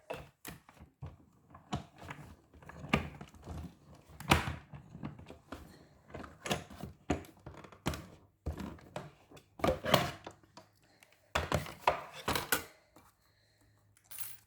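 A Stampin' Up! die cutting a paper pocket, heard as a close series of irregular clicks, taps and dull thunks spread across the whole stretch, with brief quiet gaps between clusters.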